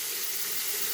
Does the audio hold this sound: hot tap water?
yes